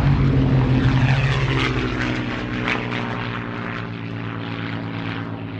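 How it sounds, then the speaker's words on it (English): Warbird propeller aircraft, a Gladiator, Hurricane and Spitfire, roaring overhead at an aviation show, a loud droning engine that fades slightly as it passes. "we've got some Warbirds, and you're going to love these. The Gladiator, Hurricane and Spitfire."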